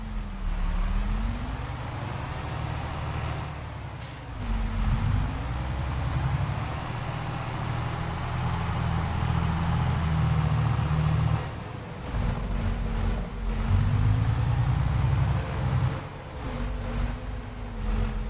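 A tractor engine in Farming Simulator 22 runs continuously for the whole stretch, a loud, close, low droning hum that rises and falls slightly in pitch as the engine revs up and eases off, with no talking.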